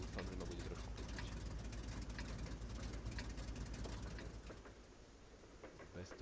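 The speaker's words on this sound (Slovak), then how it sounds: "Bez toho to fakticky není počuť nič, len motory." Engines run steadily in a video game, a dense, continuous mechanical rumble that fills the whole stretch and eases slightly toward the end, with no voices over it.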